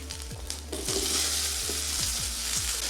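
Thick-cut chunks of ash gourd go into a hot pan and sauté for a temple-style sambar, making a close, constant sizzle with several soft knocks of stirring or of pieces tumbling in.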